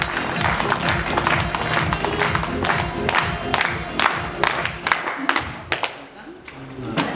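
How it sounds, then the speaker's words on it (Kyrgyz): Audience applause at a restaurant gathering: dense, steady clapping from a crowd fills the room, with a few sharper claps standing out and some voices mixed in. "кол чаап коюңуздар"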